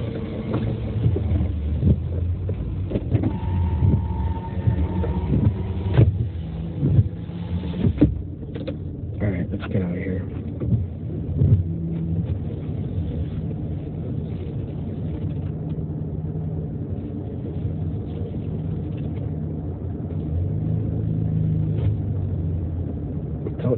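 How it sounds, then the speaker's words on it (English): A car drives slowly with a low, steady engine rumble and road noise inside the cabin, a little louder early on, then settling into an even drone. "Judge my driving, I'm very good, nice and slow."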